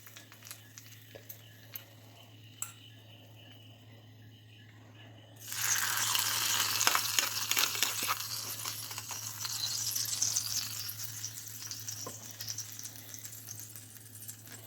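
A fried onion and dried chilli tempering poured into a pressure-cooked potato curry. A faint quiet stretch gives way to a sudden, loud, sustained crackling hiss that rolls on to the end.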